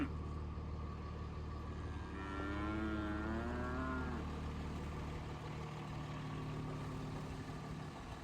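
Cattle moo once, a long drawn-out call from a nearby animal at hay feeding time after a snowstorm, over a steady low engine hum.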